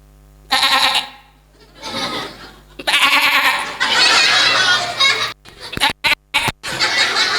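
A voice mimics a goat's bleat in several wavering, nasal cries separated by short pauses, followed by a burst of chopped, choppy vocal sounds and laughter-like fragments.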